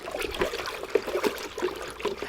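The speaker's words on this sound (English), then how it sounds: "So we're just stirring clockwise and anti-clockwise" Water being stirred with worm castings to make worm tea, a close, gentle swishing and trickling with soft sloshing pulses as the liquid is swirled back and forth.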